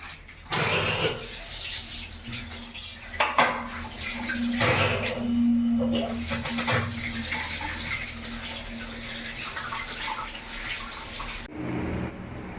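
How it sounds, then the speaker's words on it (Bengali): Hilsa fish being washed under running water, with a continuous rush from the tap and splashing that shifts as the fish is handled, ending abruptly when the flow stops. "মাছটা আমি ভালো করে ধুয়ে নিই।"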